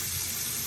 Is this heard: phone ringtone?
no